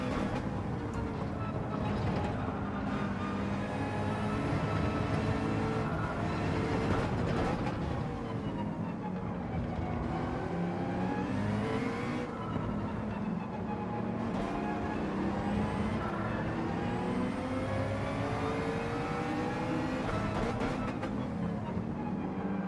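A Toyota Supra races in Gran Turismo 7, its engine roaring steadily and loudly with rising and falling gear-change pitch sweeps throughout, with no voices.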